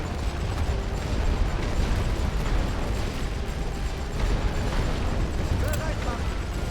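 Artillery shells burst in The Great War: Western Front, a WWI strategy game, with dull booms and rumbling explosions rolling under continuous battlefield noise while someone talks over them.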